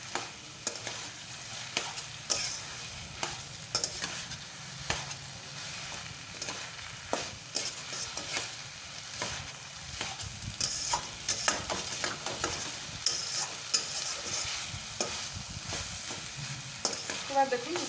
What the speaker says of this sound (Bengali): শাকের সাথে বেগুন আলুটা ভালো করে মিশিয়ে দিতে হবে